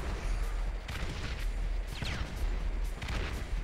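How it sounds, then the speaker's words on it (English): Grenades burst in Grand Theft Auto V: several broad booming blasts at irregular intervals over a dense, noisy background of rumble and crackle, fairly loud, with no clear voices. "He's throwing grenades at us!"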